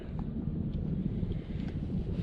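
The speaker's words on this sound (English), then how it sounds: "it's so windy" Steady low wind rumble buffets the microphone throughout while kayak fishing, a constant dull roar with faint rustling above it.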